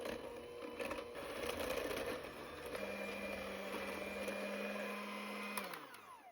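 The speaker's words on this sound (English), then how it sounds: "Mix on medium speed until it becomes light and fluffy" Electric mixer whirring at medium speed through cookie dough for matcha white chocolate cookies, a steady close motorized drone with a tone that shifts midway and cuts off near the end.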